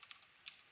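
A few soft, quick clicks of typing on a computer keyboard, quiet and close, with short gaps between the keystrokes.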